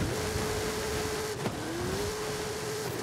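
Small English Ford car engine in the racing game Forza Horizon, a steady droning hum at constant revs that dips briefly with a gear change, then climbs back and holds.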